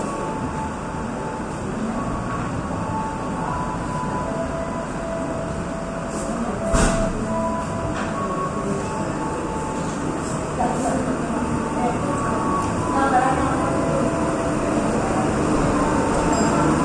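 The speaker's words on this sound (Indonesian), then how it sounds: "Kereta api Serayu dengan masinis Bapak Angga perlahan bergerak meninggalkan stasiun Ciamis." The Serayu passenger train pulls slowly out of Ciamis station in Indonesia with a steady low rumble of rolling cars, faint metallic clanks and a soft squeal, heard at moderate distance throughout, alongside a speaking voice.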